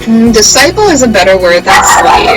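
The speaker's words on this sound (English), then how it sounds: "that was my dog barking" A dog barks and yips in short, loud bursts close by, overlapping someone talking.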